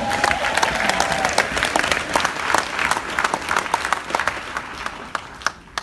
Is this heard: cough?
no